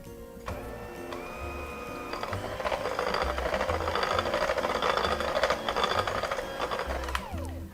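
An electric mixer blends orange cake batter made with juice and cornstarch, giving a steady mechanical whir with rattling clicks against the bowl that grows slightly louder for several seconds before stopping.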